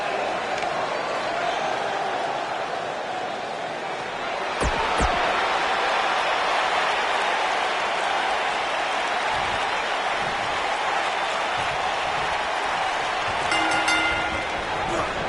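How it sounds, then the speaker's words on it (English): Wrestling arena crowd at WWE Hell in a Cell, a continuous, dense murmur of many voices that swells slightly partway through, heard at a distance and without any single clear voice. "The crowd is buzzing."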